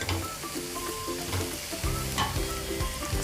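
A mutton cutlet mixture sizzles steadily in a hot pan while a utensil scrapes and stirs, clattering rhythmically against the metal.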